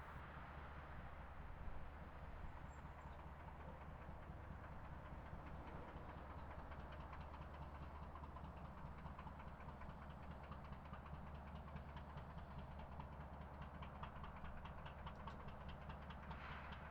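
Canadian National locomotives pull a CSX freight around a curve in Kentucky, approaching the bridge over Lynn Camp Creek: a faint, steady diesel rumble and rolling rail noise held at a distance throughout.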